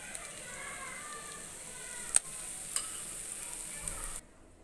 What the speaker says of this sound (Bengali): আরেক পাশ ভালোভাবে ভাজা হওয়ার জন্য পুঁটি মাছগুলি উল্টালাম